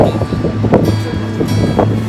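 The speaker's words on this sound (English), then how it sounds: "the wind is very strong just and the area" Strong gusts buffet the microphone outdoors near a waterfall, producing loud, uneven rumbling bursts that swell and fade over the whole stretch.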